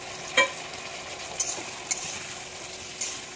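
Potato and pointed gourd pieces are stirred through a spice paste in a hot pan, giving a soft, steady sizzle with a few sharp scrapes of the spoon against the pan.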